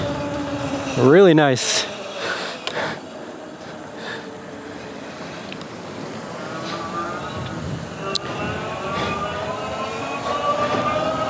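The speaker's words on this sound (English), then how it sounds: "I'll just give it some throttle here." The hub motor of a Viribus SC5 fat-tire electric trike whines and rises sharply in pitch under throttle, then settles into a steady hum over rolling road noise. A rider speaks briefly.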